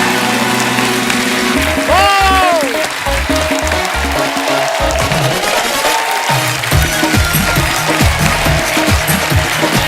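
A studio audience at a comedy talk show breaks into sustained applause to welcome the host, a dense wash of clapping mixed with loud music.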